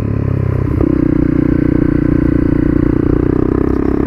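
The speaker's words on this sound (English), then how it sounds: "It's absolutely brilliant on a bike." Honda CRF250L motorcycle engine droning steadily and loudly at close range while riding a twisty, undulating road around the Duke's Pass near Loch Katrine, with a slight shift in pitch early on and constant road and wind rumble.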